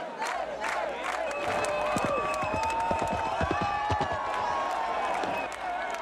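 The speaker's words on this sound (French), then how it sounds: "À chaque tentative, la foule encourage les cavaliers." A large festival crowd cheers and shouts for horse riders at the Sant Joan celebrations in Menorca, a dense, steady roar of many voices with whoops and claps throughout.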